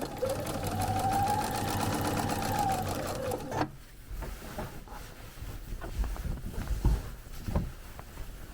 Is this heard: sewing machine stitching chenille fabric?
yes